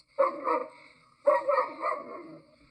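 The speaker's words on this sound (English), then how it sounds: "Oh no, it's that dog again." A dog barks twice in two short, loud bursts about a second apart, each burst a quick double or triple woof, heard close with no talking.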